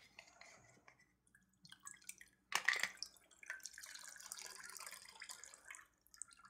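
Cocktail being strained and poured into a chilled glass, quiet trickles and drips with a sudden bright splash mid-way, followed by light dribbling and faint clinks, close and soft.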